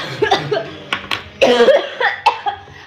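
A woman coughs several times in sharp, harsh bursts close to the mic, the fits sounding strained and painful, with short breathy pauses between them during a live stream.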